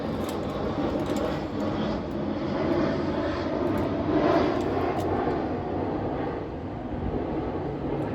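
An airplane drones overhead, its engine roar swelling gradually to a peak and then easing off, steady and moderately loud, with no talking.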